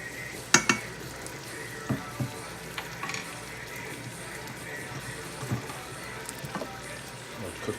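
Minced garlic sizzles steadily in a pan for a butter chicken dish, a constant close frying hiss broken by several sharp clinks and scrapes of a utensil stirring.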